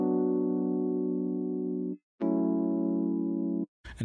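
A sustained harmonic synth or keys chord, widened with a stereo spreader effect in a Logic Pro X afrobeats production, held in two long blocks separated by a brief gap, alone and steady.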